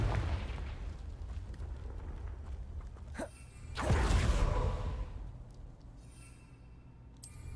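A Confringo fire spell in Hogwarts Legacy whooshes and bursts into a loud explosion a few seconds in, with a sharp crack, then a deep rumbling blast that fades slowly against low background ambience.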